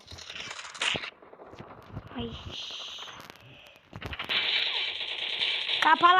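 Rapid bursts of gunfire in a first-person shooter video game crackle in short volleys and longer sustained strings, with a voice talking between the shots.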